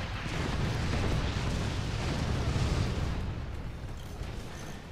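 Weapons fire and explosions in the artillery strategy game Forts, a dense, continuous barrage of low booms and crackling blasts that stays loud throughout and eases slightly near the end, with no voices.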